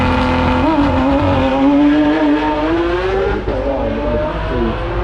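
A twin-turbo 3.8-litre supercar accelerates hard up the Goodwood hill climb, its loud engine note rising steadily through the gears, close and continuous with no voices.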